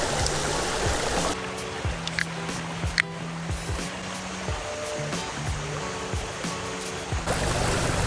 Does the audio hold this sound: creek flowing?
yes